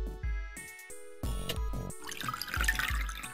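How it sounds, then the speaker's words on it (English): Liquid being poured back into a bottle in the puzzle game Zero Escape: several short splashing, dripping bursts with low thumps, alone over a faint background tone. "I like how we just pour that right back in the bottle, no problem."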